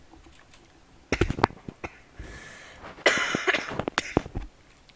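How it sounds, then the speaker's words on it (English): A person coughs in a few harsh, close bursts, with a longer rough fit in the middle, over faint clicks and background noise during a gaming session. "Sorry for coughing, I'm a little sick."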